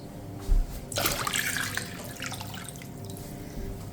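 Water, about a gallon, pours into a pot holding a whole chicken, a steady close splashing and trickle after a soft knock, gradually settling toward a quieter flow.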